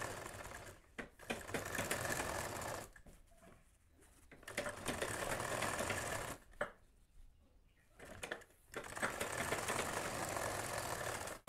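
A sewing machine stitches the inner seam of men's underwear in several long, steady runs of rapid whirring stitching, each separated by brief quiet pauses, close and clear.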